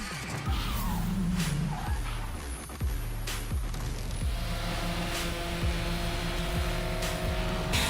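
A drift car at a Formula Drift Atlanta pro competition tears through a slide, its tire ripping and screeching in a loud, sustained roar mixed with engine drone and crowd-distance ambience.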